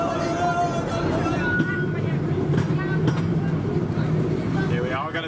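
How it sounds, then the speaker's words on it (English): A small amusement park train at Parc Bagatelle rumbles and clatters past at close range over water, wheels rattling steadily, with voices talking over it. "Really nice how the train passes over the water just here."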